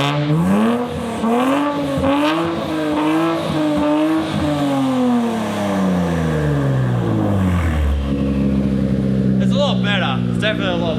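Straight-piped V6 exhaust on a Nissan Z revving loud and close, rising and falling through several sustained pulls before settling back toward idle, with the engine tone dominating throughout.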